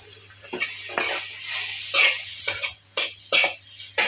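Sabudana (sago) being tipped into a pan with fried green chillies and stirred: a string of short scraping, rattling clatters of spoon against pan, about eight distinct strokes, close and alone.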